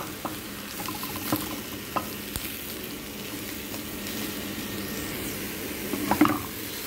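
Beef frying in a pan with salt and black pepper, a steady close sizzle with occasional stirring scrapes and a louder clatter near the end.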